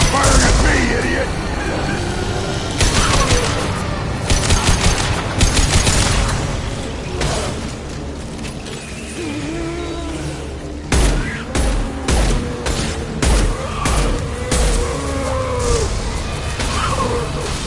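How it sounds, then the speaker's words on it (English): Sustained gunfire in a Mass Effect Legendary Edition firefight, bursts of rapid shots in clusters with sharp cracks and booms, pausing briefly mid-way, with voices talking over the combat. "Stop firing at me"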